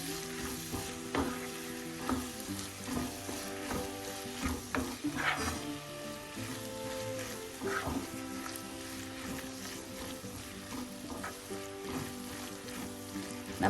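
Squid masala with tomato being stirred and mixed in a frying pan, a steady low sizzle with scraping spoon strokes and small clinks throughout, close and moderately quiet, no talk.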